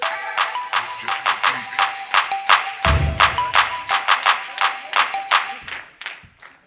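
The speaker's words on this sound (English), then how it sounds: "Everybody clap." An audience at a mentoring summit plenary claps in unison, a regular rhythmic beat of about two claps per second, loud and close, tapering off near the end.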